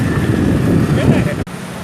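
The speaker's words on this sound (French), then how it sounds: "Je suis en direct d'une moto-taxi." Wind rushes across the microphone and a motor hums steadily during a motorcycle taxi ride through a Pattaya street, loud and close, before a sudden short cut in the sound.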